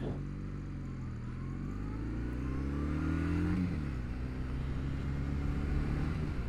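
Kawasaki W800 motorcycle engine under acceleration while riding, a low harmonic drone that rises in pitch, dips at a gear change, then climbs again, heard from on the bike with wind noise.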